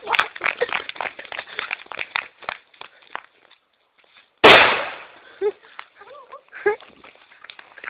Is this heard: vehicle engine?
no